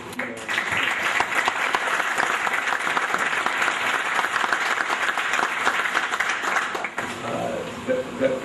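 Sustained applause from an audience honoring a city mayor and team at an event marking a factory purchase, dense clapping that runs steadily for about seven seconds, briefly dips, then continues.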